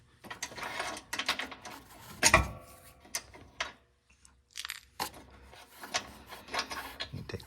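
Bolts are worked loose on a Ryobi RM480ex lawn mower, giving close, irregular metallic clicks, ratcheting and scraping in short bursts separated by quiet gaps.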